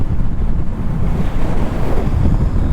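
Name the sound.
wind noise while riding Honda CL500 motorcycle on ring road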